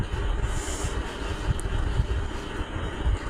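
A Kolkata metro train rumbles along from inside the carriage, a steady low rolling drone with soft rhythmic thumps from the wheels and no voices.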